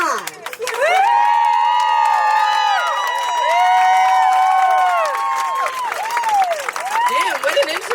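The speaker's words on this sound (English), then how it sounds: "And I want you to clap loudly for my sister, Tajh." An outdoor crowd at a police-free-schools rally cheers and whoops loudly, with many overlapping shouts and screams sustained above clapping for several seconds.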